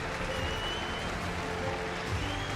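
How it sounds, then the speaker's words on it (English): A large crowd at an Overwatch World Cup 2018 Paris qualifier match between Poland and Germany applauds, a dense, even wash of clapping and crowd noise that holds steady throughout. "That beautiful sound of the crowd applauding what they know was a fantastic series"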